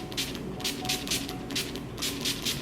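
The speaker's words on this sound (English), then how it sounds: "I need to set with NYX setting spray" NYX makeup setting spray goes on in about six quick, soft spritzes with a steady rhythm, each a faint breathy hiss over a quiet indoor background.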